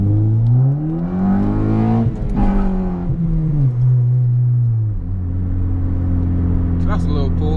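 A tuned car with a Ktuner engine tune accelerates hard, the engine note climbing through the gears with a brief wheelspin and a shift midway, loud and close, with a voice speaking over it.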